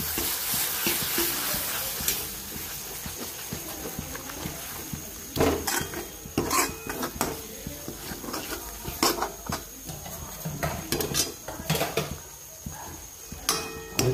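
Grated coconut is stirred in a pan while cooking mutton, with a spoon scraping and tapping the pan in irregular bursts over a soft sizzle, close and fairly quiet.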